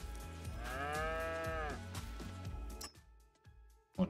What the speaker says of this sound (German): 60 Kühe jetzt hier inzwischen